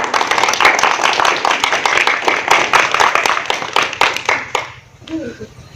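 A crowd at a comedic village political rally in Awadhi claps in a quick, steady rhythm for several seconds before the clapping stops abruptly and a voice briefly speaks.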